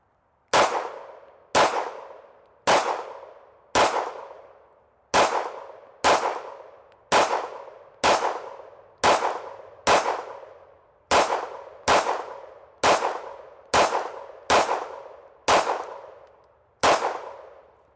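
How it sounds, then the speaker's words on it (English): A 9mm pistol emptied in a mag dump into a body armor vest: about sixteen sharp, ringing metallic shots at a steady, slightly uneven pace, each decaying quickly into silence, with no talking. "we're going back to the 9mm, and I'm going to do a mag dump"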